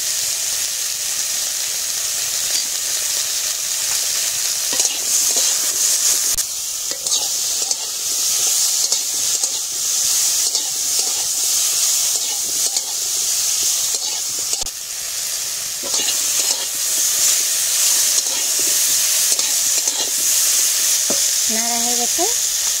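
Potatoes and turmeric frying in a pan for an Indian drumstick curry, a continuous loud sizzle with scraping stirs throughout and a few louder clatters near the end, close-up with no talk.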